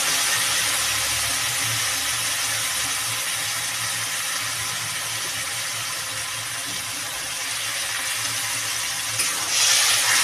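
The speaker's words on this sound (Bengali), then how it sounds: "এবার দিয়ে দিলাম জল।" Water pours steadily into a pan of cooking bata fish curry with tomato and mustard paste, a continuous close hissing gush lasting throughout.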